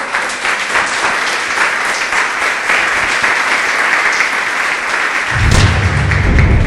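A church congregation claps in praise during a worship service, dense sustained applause throughout, joined near the end by low rhythmic thumps.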